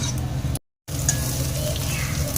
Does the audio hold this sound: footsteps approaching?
no